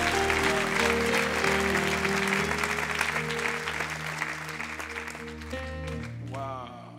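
A church congregation applauding and cheering the Lord during a sermon by Pastor Christian Saboukoulou: loud, sustained clapping with shouts, sung or held voices and accompanying music underneath, fading slightly toward the end.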